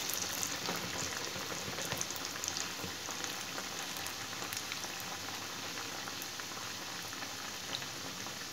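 Lentil fritters made with masoor and khesari dal, kalmi and helencha greens fry in oil in an iron wok, a steady close bubbling sizzle that runs unbroken and alone.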